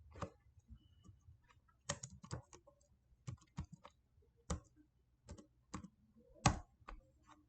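Keys clack on a computer keyboard in irregular bursts of sharp clicks as a network command is entered on an Ubuntu server, quiet and close, with short pauses between keystrokes and no talking.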